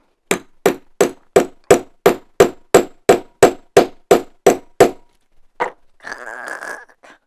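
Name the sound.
hammering out a set rivet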